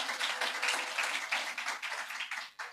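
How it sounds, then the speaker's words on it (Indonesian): Church congregation applauding the praise and worship team, a steady broadband wash of clapping that holds through and dips near the end. "Tepuk tangannya boleh di-extend buat tim praise and worship kita."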